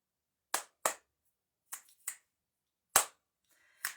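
Six sharp, close finger snaps ring out in an uneven rhythm, separated by near silence.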